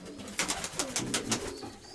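Two pigeon chicks in a nest give soft, repeated cooing pulses, close and steady, with no speech.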